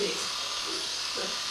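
Electric clippers trimming the feathered lower leg of a Friesian horse, a steady close buzzing drone with a person talking over it.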